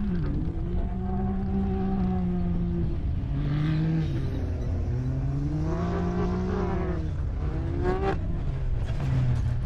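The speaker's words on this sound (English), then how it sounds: "the number 220, running his UTV out there" A UTV, number 220, races at Prairie City SVRA in California during a KMC qualifier. Its engine drones loud and close, its pitch rising and falling as it revs through gear changes for the whole stretch.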